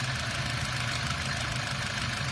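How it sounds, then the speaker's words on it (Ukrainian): A VW Passat B5 with the 1.8T AWT engine and automatic gearbox idles steadily under the open hood, a close, even low rumble with a constant rattling hum and no voices. "І так, запустив я мотора."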